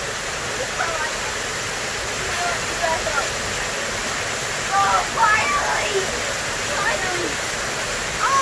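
Steady broadband rush of water pouring down a waterfall in a secluded forest creek, continuous and fairly loud, with a voice speaking briefly over it.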